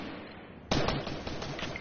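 Sudden burst of rapid automatic turret gunfire in the Fortnite video game, a dense rattling volley that starts abruptly after a quiet lead-in and continues steadily, loud and close.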